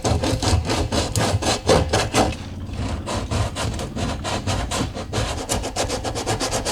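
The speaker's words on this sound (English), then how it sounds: "Now I'm gonna take some sandpaper to it and get all those small stuff" Sandpaper scrubs plastic on an RV waste tank in a rhythmic series of quick back-and-forth strokes, close and steady, with a brief pause partway through.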